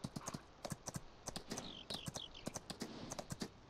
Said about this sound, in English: Now the horse wants to really go, it seems like it.